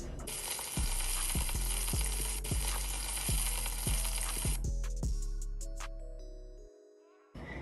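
A steak sears in a pan with a dense, steady sizzle and faint regular pops. The sizzle cuts off abruptly partway through and is followed by a few quiet clinks and settling sounds.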